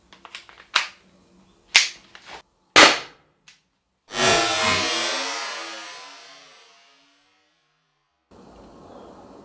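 Umarex HDR 50 T4E home defence revolver, a 50 cal CO2 pistol, firing version 2 ammo: several sharp close pops in quick succession, then one louder hissing burst that fades over a few seconds, with no voices.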